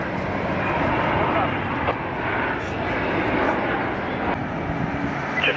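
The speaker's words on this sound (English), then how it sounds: "Jet" A firefighting jet aircraft flies over the Malibu wildfire near Los Angeles, a steady broadband engine roar that stays loud and continuous throughout.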